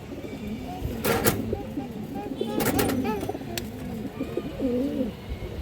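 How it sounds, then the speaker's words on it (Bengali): A big male pigeon coos in repeated soft, rolling bursts close by, with a few sharp clatters and faint background murmur between calls. "এই যে দেখেন বিগ সাইজের নর কবুতর"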